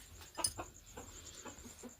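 Chicks crying out after their mother hen was killed by a large cobra at night: faint, repeated short peeps in an irregular rhythm, heard alone over a quiet background.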